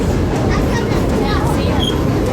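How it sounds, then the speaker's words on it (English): The Dollywood steam train engine labours up a mountain grade, making a continuous loud, rough rumble with rhythmic clatter from the cars, heard from on board. "Listen to that engine as she climbs the mountain"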